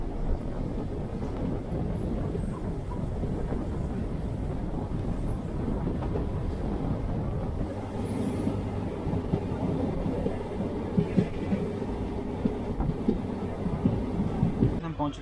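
The Uttaranchal Sampark Kranti Express passenger train, running from Old Delhi to Kathgodam, rolls on the rails. A steady loud rumble with recurring clickety-clack carries on throughout, heard from inside the coach.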